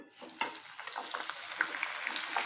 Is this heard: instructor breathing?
no